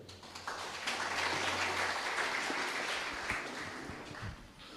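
A church congregation claps steadily while taking their seats after a prayer, a soft, dense patter of many hands sustained for several seconds with a low hum underneath.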